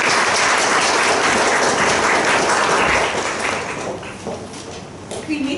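Dense audience applause at an İçel Sanat Kulübü voice-class concert in Mersin, a steady wash of clapping that holds loud for about three seconds, then thins and fades toward the end.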